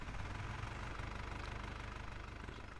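A tractor engine in the Farming Simulator video game idles steadily, a continuous low mechanical drone with a faint knocking pulse that stays even from start to finish.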